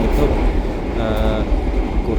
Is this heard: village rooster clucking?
no